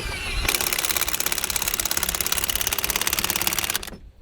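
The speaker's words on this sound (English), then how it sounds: "even an impact gun is working hard to get that going" Impact gun hammering hard on a welded nut, a loud, continuous rapid rattling burst lasting a few seconds before cutting off abruptly, with no talk over it.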